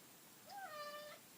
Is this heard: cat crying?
yes